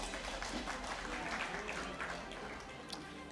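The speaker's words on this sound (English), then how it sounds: "let's give them a round of applause." Steady applause from an awards ceremony audience, a continuous wash of clapping with some voices mixed in, fading slightly toward the end.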